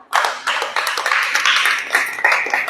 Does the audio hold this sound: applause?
yes